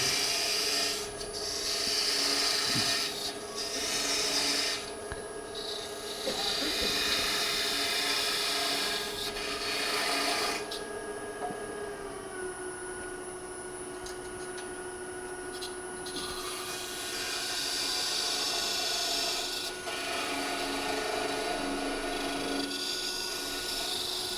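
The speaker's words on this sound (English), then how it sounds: "Just making a little bit of a concave cut here." Hand-cutting a small concave cut into a piece of wood, giving steady rasping, rubbing strokes that repeat through the clip at close range, with short pauses between passes and no talk.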